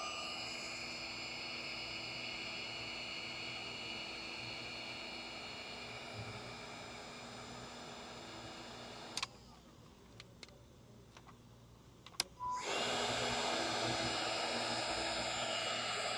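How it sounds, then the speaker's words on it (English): A heat gun stripping varnish from teak wood blows a steady whooshing drone for about nine seconds, cuts out briefly with a few clicks, then roars back on louder; no one talks over it. "First, we're going to run the heat gun."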